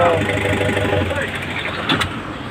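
A newly rebuilt engine runs with a rough, steady rumble up close, with someone speaking over it throughout.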